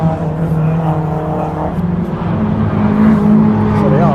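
Race cars at a BRSCC race meeting roll slowly through the pitlane, a close, loud, rumbling engine drone with rising and falling revs. Talk runs over it throughout.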